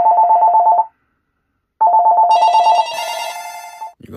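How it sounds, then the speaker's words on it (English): Telephone ringing loud and close, two electronic ring bursts with a short gap, a higher tone overlapping the second ring. "You gonna answer the phone, Jackson?"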